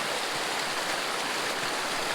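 Constant, rushing hiss of a mountain stream flowing over rocks, steady and close, filling the whole moment with broadband water noise and no voices.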